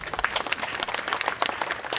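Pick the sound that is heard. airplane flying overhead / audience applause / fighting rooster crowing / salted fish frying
audience applause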